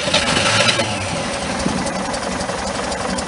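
A cold Chevrolet Monza engine idles with its idle set very low, giving a steady, close mechanical rumble with a broad hiss that holds evenly throughout, with no voices.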